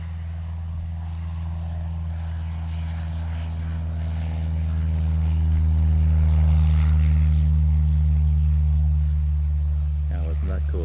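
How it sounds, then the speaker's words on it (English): A propeller airplane takes off nearby, its engine drone strong and steady with a pulsing propeller beat that swells loudest midway, then eases slightly, while a voice is briefly heard toward the end. "Oh, another airplane's about to take off"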